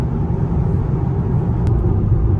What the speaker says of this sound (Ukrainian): Їду зараз 110 на круїзі, але місцями і швидше їхав.